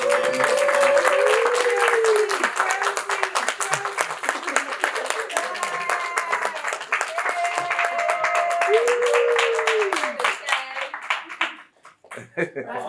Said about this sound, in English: Please put a hand of applause for them.